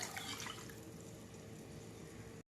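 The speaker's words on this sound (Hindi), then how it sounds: "अब ये गर्म हो चुका है तो हम इसमें पानी ऐड कर लेंगे।" Water pours into a hot pan of sautéed ingredients during cooking, a continuous close splashing and gurgling stream that stops abruptly.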